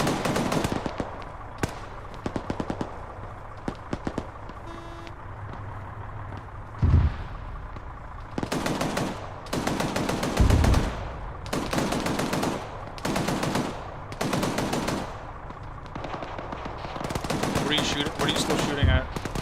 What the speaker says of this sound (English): What are you still shooting at?